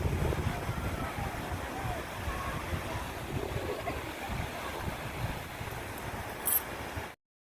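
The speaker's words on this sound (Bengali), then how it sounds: "এই জলেই কি আওয়াজ দেখো।" A river rushes along a windy riverbank, its roar mixing with gusty wind buffeting the microphone, steady and fairly loud before cutting off abruptly.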